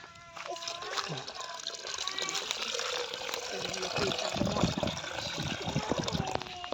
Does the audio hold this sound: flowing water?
yes